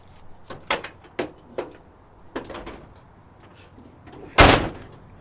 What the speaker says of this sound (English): The door has never opened that easy in the past 20 years I've owned it.